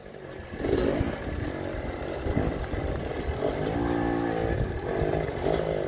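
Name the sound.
enduro motorcycle engine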